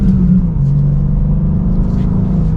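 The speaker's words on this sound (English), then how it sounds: "I do like how that exhaust sounds in the stock form" A 2025 BMW M2 manual's stock exhaust drones with a deep, loud rumble as the engine pulls steadily under acceleration.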